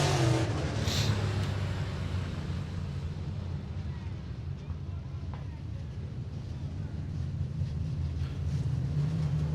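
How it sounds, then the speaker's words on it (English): Race cars drive through turns three and four at Deep South Speedway in Loxley, Alabama, a steady distant engine drone under wind noise and a commentator talking throughout. "The 2 cars around down there in turn number 3 and 4."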